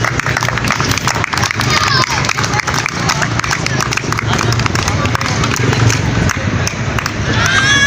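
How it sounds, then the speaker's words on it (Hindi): Audience applause at a Pakistani award show and family festival, steady dense clapping from a crowd with voices and music mixed underneath, continuing throughout. "तालियां।"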